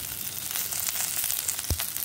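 One medium-sized onion hits hot oil in a pan for a Maharashtrian pithla bhakri, giving a steady close sizzle and crackle with a single sharp clunk near the end, and no voices.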